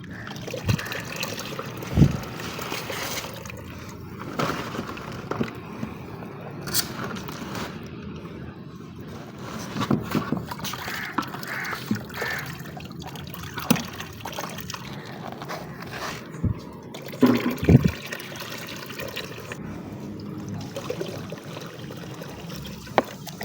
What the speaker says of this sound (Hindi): यहाँ पर ही उलट दो और इसमें पानी दे दो।